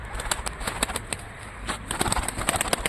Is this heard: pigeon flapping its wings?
yes